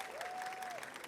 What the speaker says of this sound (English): give him a round of applause for that question